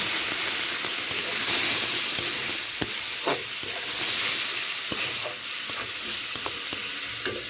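Small fish sautés in a pan with a little water, giving a loud, dense hissing sizzle with scattered spoon clicks and stirring scrapes, with no voice.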